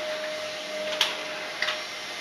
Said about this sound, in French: termine le séjour en passant l'aspirateur